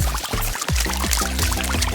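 A cartoon water-pouring effect fills a large cardboard bathtub big enough to be a swimming pool, a steady continuous gush lasting about two seconds over a bright, musical backdrop.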